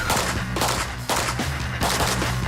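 Pistol shots ring out in rapid, evenly spaced bursts during a USPSA race gun stage run at a national match. They are loud and close, about four quick volleys in a few seconds, with no talking.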